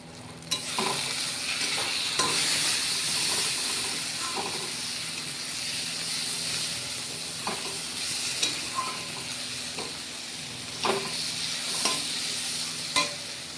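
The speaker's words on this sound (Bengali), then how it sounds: "মশলাগুলো ভালো করে কষিয়ে নিই" Spices such as turmeric and chilli powder fry in hot oil for a mutton mince dish, a steady close sizzle broken by regular scraping and clinking stirs of a spoon against the pan.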